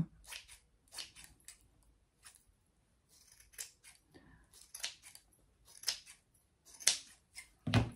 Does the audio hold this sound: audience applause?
no